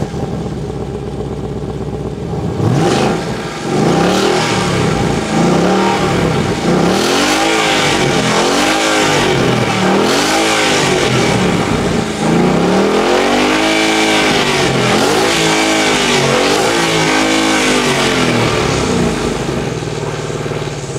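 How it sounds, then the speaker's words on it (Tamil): A 5-litre sports car engine revved repeatedly through its exhaust, rising and falling in a series of loud, throaty surges that build into sustained high-rpm roars, close and with no talk. "ஃபைனலாக இந்த காரோட எக்ஸாஸ்ட் நோட்டை கேட்டுருவோம், பிகாஸ் 5 லிட்டர் இன்ஜினு எவ்வளோ சவுண்ட் கொடுக்குன்றதை பார்ப்போம்."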